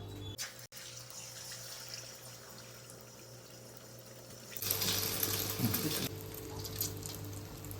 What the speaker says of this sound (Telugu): ఆయిల్ అయితే బాగా హీట్ ఎక్కిపోయింది. ఇప్పుడు మనం ఈ ఎగ్ దీంట్లో వేసేసుకుందాం.